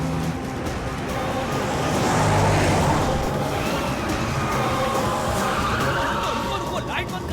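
A car driving fast during a chase gives a steady, loud engine roar with rushing road noise that swells midway, with a voice faintly present underneath.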